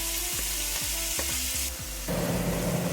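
Onions sizzle in hot oil as they start cooking for beef pares, a steady close-up frying hiss with a few stirring clicks and some background tones.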